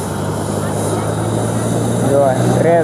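A helicopter engine revs up at close range before take-off at Palitana, a loud steady roar with rising whine, while voices are faintly present.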